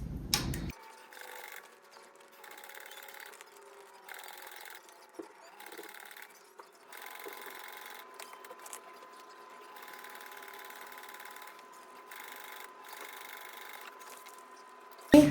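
A sewing machine top-stitches a fabric popcorn bag in several close bursts of rapid, even whirring, with short pauses between runs and faint handling noises.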